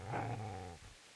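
A dog growls in the medieval video game Kingdom Come: Deliverance, a single short, low, close snarl lasting about a second.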